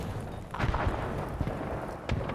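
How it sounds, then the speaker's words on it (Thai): Several muffled explosive booms and pops go off in a scene from the video game The Finals, a couple of sharper bursts standing out over a noisy background. "โอ้ยอะไรระเบิด"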